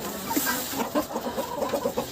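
Hens clucking steadily close by in a quick, busy rhythm, with a rooster among them and a soft background hiss, on a farm in winter after freezing rain.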